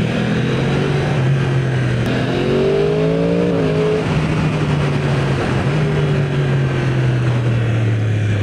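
A 2015–2019 Yamaha R1 sport motorcycle ridden through curves in B mode, its engine droning steadily and close with rising and falling pitch as it accelerates between bends, continuous throughout with no talk.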